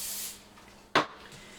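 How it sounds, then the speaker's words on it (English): A single short hiss of vegetable oil cooking spray onto a rack, a quick close burst lasting under a second in a quiet room. "I like to put a little vegetable spray."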